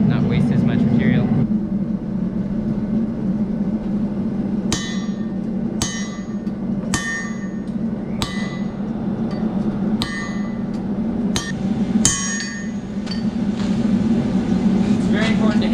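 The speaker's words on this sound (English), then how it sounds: "We're gonna flatten the blade out, and then I'm gonna forge the bevels into it" A hammer strikes a hot Damascus knife blade on an anvil to flatten it, about eight sharp ringing blows spaced roughly a second apart over a constant roaring forge or blower hum.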